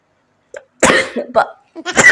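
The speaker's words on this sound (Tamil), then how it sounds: "தும்மல் வந்துச்சுப்பா." A person sneezing during a sneezing challenge: a faint intake, then several sharp, loud bursts close to the microphone, each separated by short gaps of silence.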